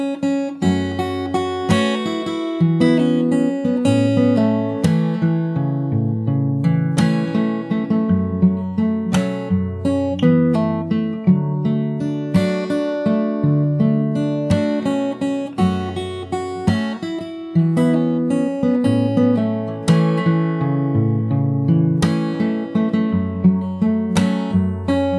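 Fingerstyle acoustic guitar picks out a chorus, with plucked bass notes and melody running in a steady, even flow, close and moderately loud, with no voices.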